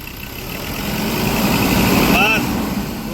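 A 2018 Ford Endeavour diesel engine, being checked for a noise problem, rises from idle as the accelerator is pressed, swelling into a louder rev, with a brief whine near the peak, then easing back.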